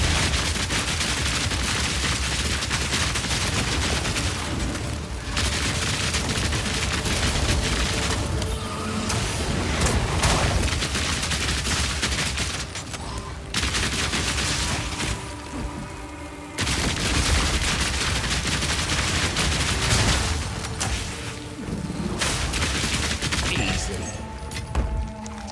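Rapid gunfire from a mercenary character in Path of Exile 2 rattles in long sustained loud bursts, with booming impacts and brief gaps between volleys, with no talk.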